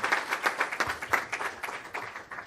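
An audience at a Farrakhan address claps in a steady, dense round of applause, many hands close and loud throughout.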